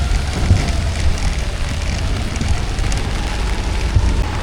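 Heavy rain pours down outdoors, a dense, steady hiss of drops with scattered louder patters, continuous and close with no pauses.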